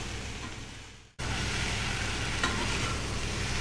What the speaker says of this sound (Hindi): दो से तीन मिनट इन्हें अच्छे से फ्राई कर लेते हैं जिससे कि मसाले फलियों में अच्छे से मिक्स हो जाएं।